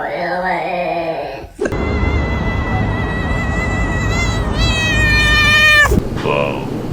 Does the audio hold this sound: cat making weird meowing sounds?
yes